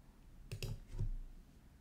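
A few soft mouse clicks from a computer, two or three quick taps close together followed by one more, faint and dry against a quiet room.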